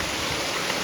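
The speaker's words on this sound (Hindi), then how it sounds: "करा वर्षा हो" Heavy rain with hail roars outside as a dense, unbroken wash of noise, loud and steady, with no voices over it.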